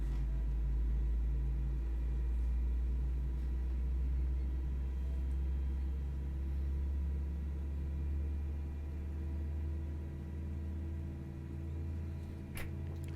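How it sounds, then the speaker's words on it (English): Airbus A320 jet engine spooling up in the X-Plane 11 flight simulator, a steady low rumble with a constant mid-range whine, holding evenly for the whole stretch with a brief click near the end. "that engine start sound"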